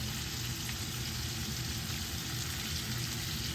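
Garlic and rosemary sizzle steadily in melted butter in a pan, a close, continuous crackling fry with no pauses or voices.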